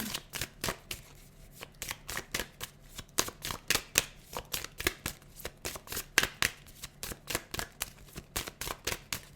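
Tarot cards are shuffled by hand in a quick, steady run of crisp riffling slaps that repeat for several seconds, close and moderately loud with no talking.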